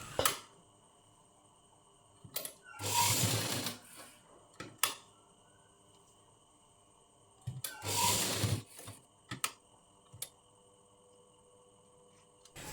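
A sewing machine stitching a blouse along a drawn line runs in two short bursts of about a second each, close and fairly loud, separated by quiet gaps with scattered clicks and handling noises.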